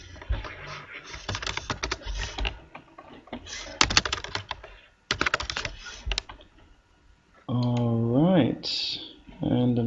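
Computer keyboard keys being typed in bursts while an email address is entered, the clicks close and crisp, with a voice speaking over the end.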